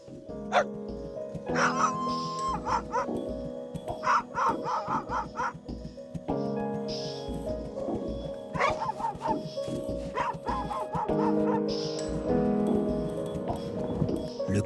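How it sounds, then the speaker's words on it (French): Aidi guard dogs of Morocco's Atlas mountains bark in repeated sharp bursts with some yips, moderately distant over outdoor ambience. "Ça c'est l'Aïdi, c'est vraiment le chien de protection des montagnes du Maroc."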